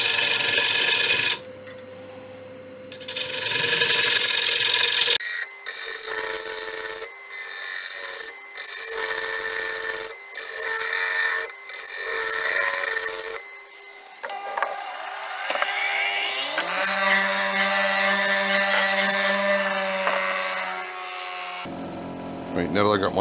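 A wood lathe turns a large ash bowl while a gouge hollows the walls, giving bursts of scraping and cutting noise broken by short pauses, with a steady high whine late on and some talk in between.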